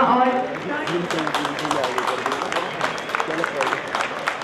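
An audience at an army fair dog show claps steadily, the dense applause running under a loud announcer's voice.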